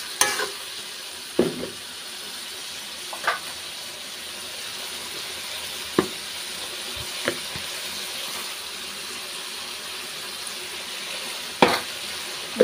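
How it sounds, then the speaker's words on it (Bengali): Pointed gourd and hilsa fish curry is stirred in a pan, a constant hissing simmer with sparse, sharp clinks and scrapes of a spoon spaced a few seconds apart, no speech. "ঢাকা তুলে আরেকটু নেড়ে চেড়ে নিচ্ছি।"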